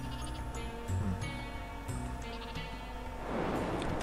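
Sheep in the video game Flockers bleat repeatedly in overlapping calls, several voices near and clear, over a steady game music and ambience bed that swells toward the end.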